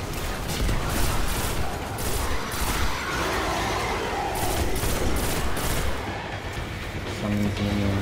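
Weapon fire in the video game Destiny: The Taken King, a dense, steady run of rapid shots and blasts that stays loud and close for the whole stretch, with no talk over it.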